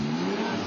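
Race cars accelerate back up to speed as green-flag racing resumes after a safety car period, a brief steady engine roar held at a constant pitch, moderately loud and heard alone.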